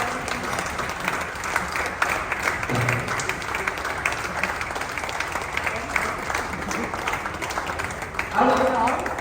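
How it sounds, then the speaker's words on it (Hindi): Audience applause welcoming a teacher at a campus event, a steady wash of clapping lasting the whole stretch with some talk mixed in underneath. "जोरदार तालियों के साथ स्वागत कीजिए सोनी मैम का।"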